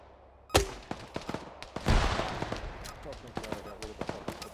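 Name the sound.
gunfire from a video game, milsim shooter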